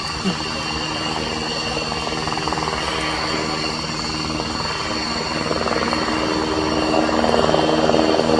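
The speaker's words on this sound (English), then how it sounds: "Two examples of the PZL-Swidnik W3A Sokol from the 243rd Helicopter Squadron of the Czech Air Force." A pair of PZL-Swidnik W3A Sokol helicopters of the Czech Air Force's 243rd Helicopter Squadron displaying at an airshow, with a loud, steady rotor and turbine roar that builds toward the end while a commentator talks over it.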